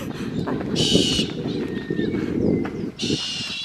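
Harsh, screechy galah cockatoo calls burst out twice over a loud, continuous rumbling of movement and footsteps on a hiking trail.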